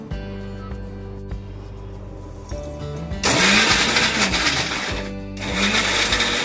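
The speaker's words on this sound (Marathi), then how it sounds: "मी मिक्सर मध्ये सगळे मसाले टाकले आहे, वाटून घेते." Mixer grinder blending whole spices with turmeric, the motor roaring loud and close in bursts that rise, pause and surge again, alone without talk.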